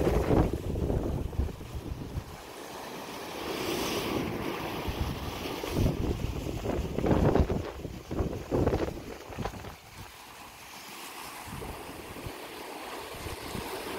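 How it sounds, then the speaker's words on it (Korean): Strong wind buffets the microphone at a coastal fishing spot in Gijang while heavy waves surge and crash nearby, a loud, continuous roar swelling and easing over about fourteen seconds with no talk. "오늘은 이렇게 파도가 너무 세고 있습니다."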